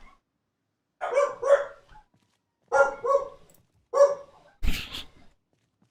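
Dogs bark outside in four separate bursts of two or three barks each, moderately close, with quiet gaps between and no talking.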